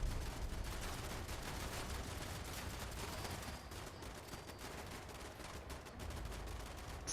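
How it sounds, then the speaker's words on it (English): Defensive turrets firing in Fallout 76, a faint, continuous rattle of distant automatic fire that keeps up steadily with no speech over it. "my turrets are going off"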